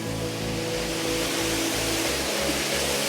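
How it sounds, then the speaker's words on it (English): An icy waterfall seen on a hike pours with a steady, loud broadband rush of falling water, close and continuous, with a faint low rhythmic thumping beneath. "Here's the waterfall."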